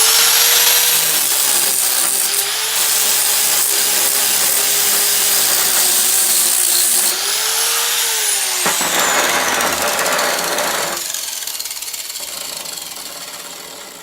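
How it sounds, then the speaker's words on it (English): Angle grinder fitted with a flap disc sanding an anvil surface, a loud steady close-up whir and abrasive rasp that shifts tone as pressure varies, then eases slightly toward the end, with no voices. "the flap disc took it right off in one spot"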